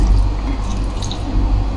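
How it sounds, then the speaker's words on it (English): Vinegar poured over mullet fish seasoned with chili, garlic and ginger in a cooking pot, a brief close splashing and dripping pour. "Like that, we put our vinegar."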